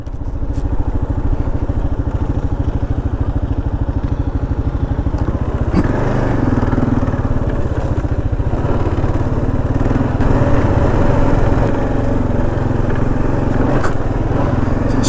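Kawasaki KLR650 dual-sport motorcycle putting along in first gear on a backwoods trail in Georgia, its single-cylinder engine thumping steadily and loud throughout, with a slight shift in tone partway through.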